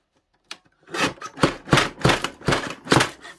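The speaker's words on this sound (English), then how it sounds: "Now I'm just going to trim all the paper off" Scissors trimming the excess paper off a handmade dried-flower window envelope, a short snip followed by five or six rhythmic rasping cuts, close and clear with no talking.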